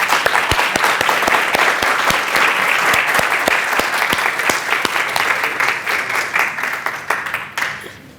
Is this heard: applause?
yes